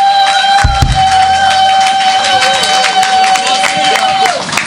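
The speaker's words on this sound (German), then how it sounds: "Applaus für sie schon wieder." A crowd at an outdoor Christmas event in a park claps and cheers for a band, a steady patter of applause under a long, sustained whistle-like tone that holds for about four seconds before dropping away.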